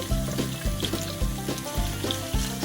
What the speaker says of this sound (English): we put the pork in there and stir fry